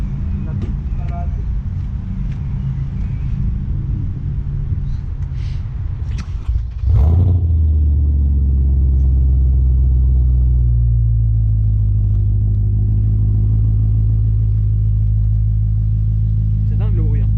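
An Audi RS4 with an aftermarket exhaust, finished all in black, fires up with a sharp crank and burst, then settles into a loud, deep, steady idle rumble close by. Before the start there is only quiet background talk.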